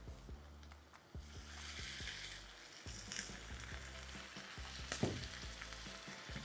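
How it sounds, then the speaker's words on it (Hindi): Masala curry frying in a pan, a steady crackling sizzle with stirring clatter, a hissing burst as water hits the hot mixture around the middle, and faint background hum underneath. "इसमें हम डालेंगे पानी।"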